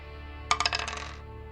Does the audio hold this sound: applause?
no